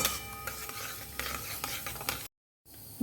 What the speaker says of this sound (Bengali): তেজপাতা ঘি দেওয়ার ফলে কিন্তু একটু ফেনা ফেনা উঠবে কোনো অসুবিধা নেই খুব ভালো করে ফোড়নটা আমাদের ভেজে নিতে হবে